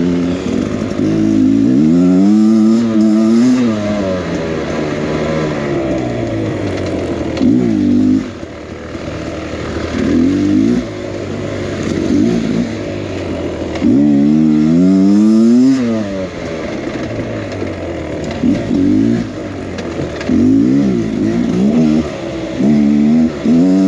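A motorcycle rides and revs repeatedly, the engine note climbing and dropping in several loud surges with gear changes between them, close and continuous with no talking.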